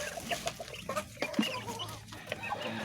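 Young chicks gathered at their feeder inside a pen, clucking and cheeping softly and steadily at close range, with no voices.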